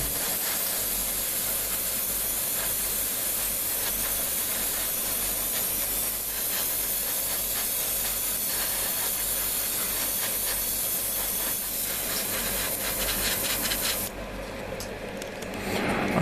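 Tamiya LP1 gloss black lacquer being sprayed onto silver plastic model kit parts, a steady close airbrush hiss that runs without a break and grows sharper and more sputtery near the end.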